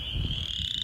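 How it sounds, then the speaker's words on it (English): Spring peepers and chorus frogs, tiny tree frogs, call together from grassy wetland margins as a dense, steady high-pitched chorus over a low rumbling background, continuous and fairly near. "Spring peepers and chorus frogs are actually very tiny tree frogs"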